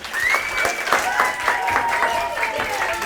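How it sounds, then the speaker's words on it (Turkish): Lively clapping from a small group, steady and close, with a voice or two mixed in. "Alkışlıyoruz Nisan Nur'u."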